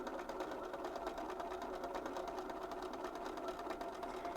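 A sewing machine runs steadily while stitching quilt pieces for non-mirrored combo units, a continuous close mechanical whir with a fast, even needle rhythm throughout and no talking.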